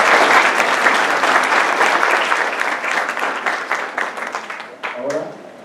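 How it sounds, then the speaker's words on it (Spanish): Audience applause in a university lecture hall fills the room, dense and steady, then tapers and thins near the end as a voice starts to speak. "un fuerte aplauso"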